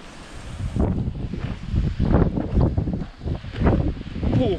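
Gusty outdoor wind buffets the microphone in rough, surging waves of low rumble that rise and fall in strength over a few seconds, with no talking.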